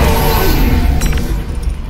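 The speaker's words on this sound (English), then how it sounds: "Cool girls don't look at explosions." A grenade explosion in the Half-Life: Alyx video game: one loud, close, broadband boom that decays into rumbling debris over about two seconds, with no talking.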